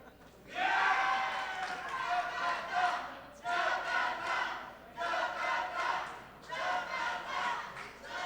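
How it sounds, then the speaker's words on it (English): Crowd cheering and chanting at a billiards match, three loud bursts of massed voices in rhythmic unison, each rising sharply and fading, heard from within the hall. "Jakarta cheering on."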